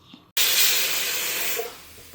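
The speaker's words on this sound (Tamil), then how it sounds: "பருப்பு சவுண்டு வந்துடுத்து" A pressure cooker cooking dal lets out one loud, steady hiss of steam lasting about a second and a half, then it cuts off abruptly and leaves near silence.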